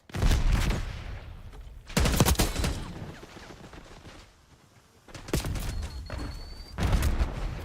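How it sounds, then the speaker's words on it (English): Flashbang grenades and gunfire bursting in a tactical shooter video game match, several loud broadband blasts spaced across the scene with crackling debris between them. "Flashbang out."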